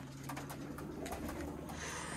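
Pigeons coo softly at a flyers' loft, several low repeated calls fairly close, over a faint background hum, with no voices.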